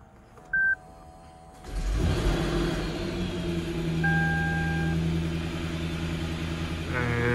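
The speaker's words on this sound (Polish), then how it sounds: "robimy rozruch na zimnym silniku po kilku dniach" Lexus LS 600h hybrid luxury sedan cold-starting at about 7 degrees after sitting several days: a short electronic beep, then the engine catches around two seconds in and settles into a steady, fairly loud idle that continues throughout, with another brief tone partway.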